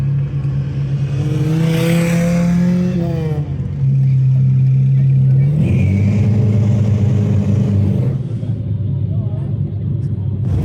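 A loud, close engine from a car at a Wichita cars and coffee meet roars and revs, climbing in pitch, dropping back and surging again, with a deep steady rumble throughout.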